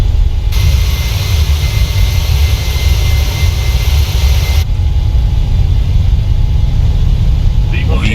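Boeing 737-800 BBJ2 engines roar at takeoff thrust in a flight simulator, a loud, continuous jet drone with steady high whine, while pilot callouts speak over it.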